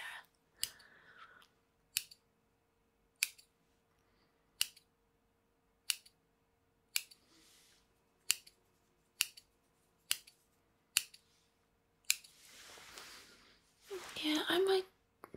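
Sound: scissors trimming hair

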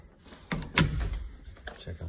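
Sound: coat closet door opening

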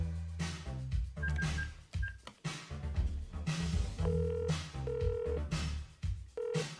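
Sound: telephone number being dialed to call a taxi

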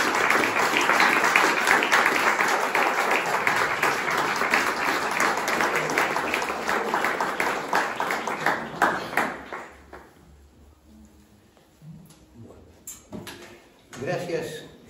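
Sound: loud audience applause for the author

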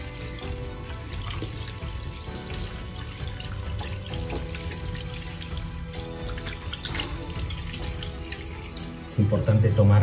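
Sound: water running from a faucet

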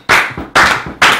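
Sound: people clapping

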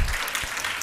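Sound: church congregation clapping

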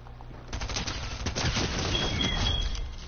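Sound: SMG gunfire in a video game

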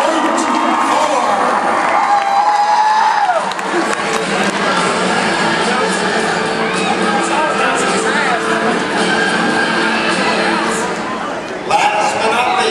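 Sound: crowd cheering for a monster truck

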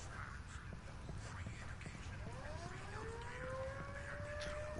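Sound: alarm siren in the video game Ghost Recon Wildlands

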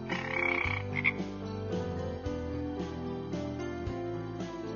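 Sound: frog croaking

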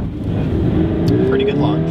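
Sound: manual car launching for a 0 to 60 run

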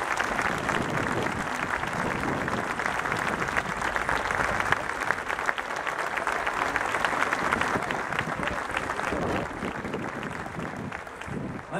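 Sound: applause for honoree at tradition night

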